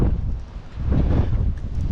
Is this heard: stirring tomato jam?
no